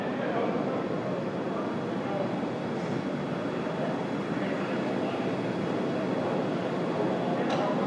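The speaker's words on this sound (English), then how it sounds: "We heard we're throttling down the Merlin engines on the first stage." SpaceX Falcon 9 first-stage Merlin rocket engines during a Dragon launch, throttled down in flight: a steady, distant broadband roar and rumble holding evenly for the whole stretch.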